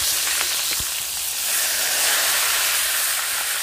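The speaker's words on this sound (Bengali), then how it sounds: "কাতলা মাছের মাথাটা আমি সুন্দর করে কড়া করে ভেজে নেব।" Katla fish head deep-frying in hot oil for a village-style pipuli greens dish gives a steady, close, crackling sizzle with hiss that holds evenly throughout, with no talking.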